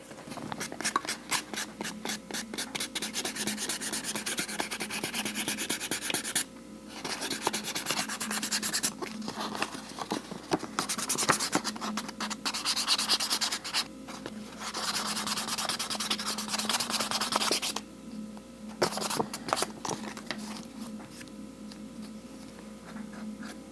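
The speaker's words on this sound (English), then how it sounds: "I think I'm going to give this a light sand and then come back and finish it up" A wooden coin holder gets a light hand sanding, steady scratchy rubbing strokes in bursts with brief pauses, close and moderately quiet, no talking.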